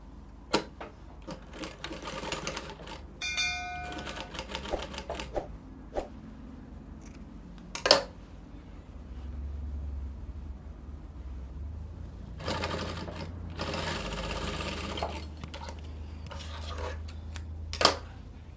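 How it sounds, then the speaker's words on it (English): Sewing machine stitching bias binding onto sleeve fabric in intermittent runs of fast mechanical ticking, with scattered fabric rustles and clicks between stitching bursts, close and moderately loud, no talking. "So I'm done stitching the bias to the 2 sides."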